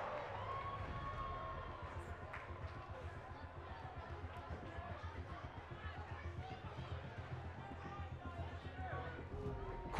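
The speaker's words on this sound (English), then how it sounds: "it sounds to me like the crowd is more than ready for this one" Wrestling arena crowd at a triple threat match, a steady dense roar of cheering and chatter filling the whole stretch, with commentators talking over it.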